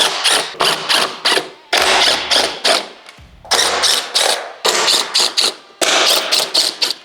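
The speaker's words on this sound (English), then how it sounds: "we'll start by removing the 6 screws on each side" A right-angle powered ratchet backing out fairing screws on a 2014-2023 Harley-Davidson Street Glide, close rapid ratcheting bursts in short repeated runs with brief pauses and a low motor hum between some of them.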